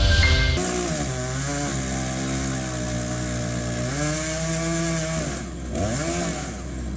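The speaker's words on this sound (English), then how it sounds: "Its razor-sharp blades slice through the toughest logs like a hot knife through butter, delivering relentless, precision-cut power." Firewood processor blade cutting through logs, a loud sustained mechanical whine with steady harmonic drone and engine roar, briefly dipping and shifting pitch near the end as a cut finishes.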